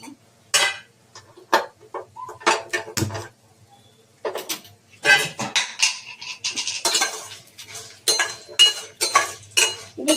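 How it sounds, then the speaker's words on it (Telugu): Dried red chillies are stirred in a metal pan while preparing karivepaku (curry leaf) powder, giving irregular clinks and scrapes of a spoon against cookware, close and fairly loud, with short pauses between bursts. "ఎండుమిరపకాయలు వేసి కలుపుకోవాలండి"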